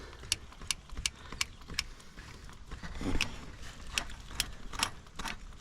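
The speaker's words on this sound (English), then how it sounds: "It takes quite a bit of grease to push it out on a small gun like this" Small hand grease gun being pumped into a Yanmar B37 mini excavator track roller, repeated sharp metallic clicks at an uneven pace, close and moderately loud with no talk.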